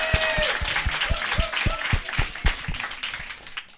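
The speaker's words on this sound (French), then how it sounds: "Alors, applaudis bien." A small audience applauds with distinct, fairly even claps that begin strong and slowly fade, and a voice talks over them briefly.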